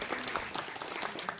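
Audience applause for game-show contestants at a live dating game event, a steady wash of many hands clapping at moderate distance with no talk over it.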